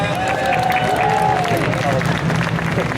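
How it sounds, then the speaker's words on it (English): A crowd at an outdoor St. Patrick's parade gathering in Queens claps for an assemblywoman, scattered applause mixed with cheering and crowd babble, with a whistle-like tone gliding above the noise. "Let's give a big round of applause to Assemblywoman Kathy Nolan."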